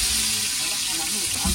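Garlic and chili paste sizzles in hot oil aboard a fishing boat in Mumbai, a close, steady hiss and crackle running throughout while a voice speaks over it.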